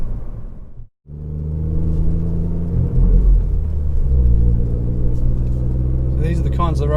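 A Ford Fiesta ST Mk8 drives on twisty country roads, its engine rumbling loudly and steadily from inside the cabin after a brief dropout, with a driver talking over it.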